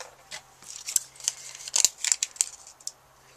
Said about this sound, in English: I am going to put some photo corners on it using this little punch here